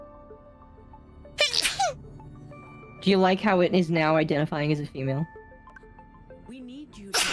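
A single sharp sneeze bursts out near the start, followed by people talking back and forth.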